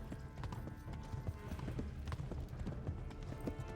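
Steady clip-clop of horse hooves while riding in the Kingdom Come video game, a quick rhythmic gait over an ambient game backdrop.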